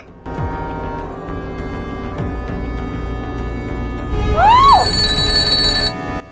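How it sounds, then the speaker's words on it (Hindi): An electronic telephone ringtone plays loudly, with a rising, warbling melody toward the end and no voices present. "इस फोन को भी अभी आना था"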